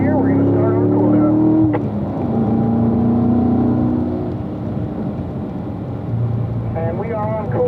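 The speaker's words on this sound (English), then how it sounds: "Full throttle underneath the Michelin bridge, and then to 4th gear, we're going to start our cool down." A Corvette Grand Sport runs at full throttle on a track, engine note climbing then dropping as it shifts into fourth gear, with a second rising rev near the end and a voice talking over the cabin noise.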